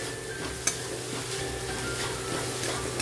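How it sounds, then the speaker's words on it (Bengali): A spoon stirs spice masala into grated potato in a pan for egg chops, making a steady close scraping and sizzling texture with one sharp clink near the start. "এখন গ্রেট করা আলুটা দিয়ে দেবো দিয়ে আলুর মধ্যে ভালো করে আমি মিক্সড করে দেবো মশলাটা"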